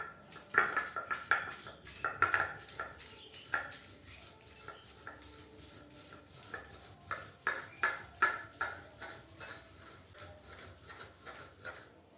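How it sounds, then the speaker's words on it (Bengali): Bottle gourd leaves being ground on a stone grinding slab, a series of rhythmic scraping, knocking strokes of stone on stone, close and moderately loud, with a pause mid-way before the strokes resume. "লাউ পাতাগুলো আমি এবারে বেটে নেব শিলে বাটলে একটু স্বাদটা সুন্দর হয়।"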